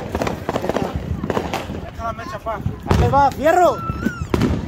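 A laser show firework cake of 260 shots fires in a grand finale: sharp bangs and crackling bursts, then a run of rising and falling whistles, with people talking nearby throughout.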